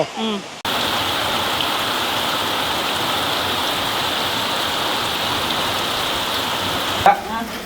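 Steady rain falls in a village, a dense, loud, continuous hiss of drops that starts abruptly and runs with little change, with brief voices at the edges.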